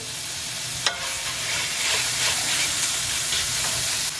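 Bacon cooking over medium-high heat in a pan gives a continuous soft sizzle and hiss, with a sharp click near the start and faint scraping stirs, heard alone without voices.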